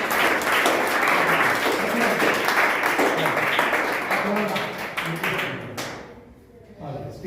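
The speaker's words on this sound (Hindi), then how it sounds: "तो इनके लिए भी तालियां" Audience clapping at a school event, a dense, steady burst of applause that carries on for several seconds and then thins out near the end, with some voices mixed in.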